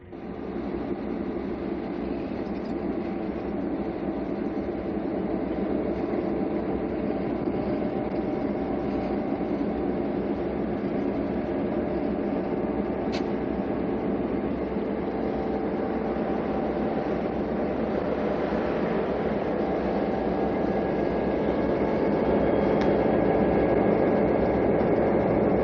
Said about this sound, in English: Which is the setting for the arrival of westbound Santa Fe train number 3.